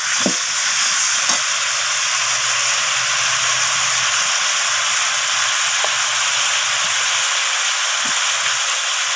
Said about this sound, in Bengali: শিমগুলোকেও আমি ফুলকপি আর আলুর সাথে এইভাবে নাড়াচাড়া করে কষিয়ে নিচ্ছি।